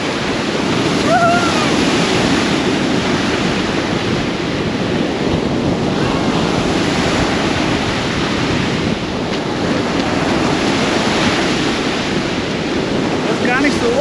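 Loud, continuous roar of sea surf on a Costa del Sol beach in Andalusia, with crashing waves and rushing water heavily mixed with wind buffeting the microphone, close and unbroken throughout.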